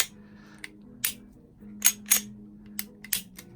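Metallic clicks and clacks as a magazine is handled and seated into a Smith & Wesson M&P 2.0 compact 9mm pistol, several sharp close snaps over a faint low hum.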